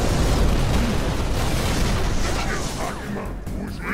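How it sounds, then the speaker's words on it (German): Grenade explosions in the video game Halo Reach, a loud sustained booming rumble that fades slightly toward the end, with faint voices underneath. "Ich baller dir mit Granaten voll."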